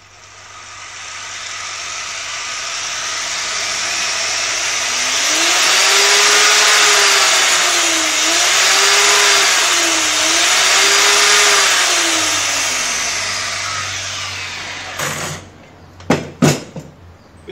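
A Makita marble saw motor whines up from low speed, its pitch rising and wavering through a loud sustained roar, then winding down and stopping, followed by a few sharp clicks.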